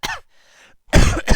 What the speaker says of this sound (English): And yes, I'm still coughing.